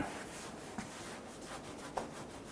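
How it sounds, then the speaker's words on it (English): Steady soft rubbing of a solvent-soaked rag wiping down a 1997-2006 Jeep Wrangler body surface before a new rear weatherstrip seal goes on, faint and continuous with a couple of small bumps. "I'm going to go ahead and wipe this down, kind of run through, just kind of clean it up a little bit."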